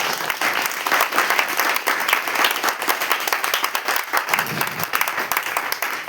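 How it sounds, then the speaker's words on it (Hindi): A church congregation bursts into loud, sustained applause, dense rapid clapping filling the room steadily throughout without a break. "जोर से परमेश्वर के लिए ताली बजाएं।"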